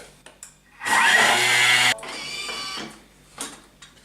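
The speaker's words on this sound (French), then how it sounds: "on va mettre nos 150 g de sucre en poudre dans le Thermomix. on va mixer 10 secondes," Thermomix blending caster sugar at speed 9: a loud, close, high-pitched whirring burst lasting about a second, then a softer grinding whir that fades into quiet.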